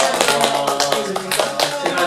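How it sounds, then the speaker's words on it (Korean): A church congregation claps in congratulation at a Sunday service: dense, steady applause from many hands, fairly close and continuous, with faint voices murmuring underneath. "축하의 박수를 해주시면"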